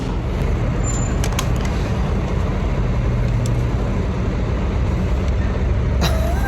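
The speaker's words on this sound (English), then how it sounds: "I don't know if you guys can hear all them diesels out there running" Several diesel trucks idle outside near a barn, a dense, steady low rumble that never lets up, with occasional hisses and clanks rising above the drone.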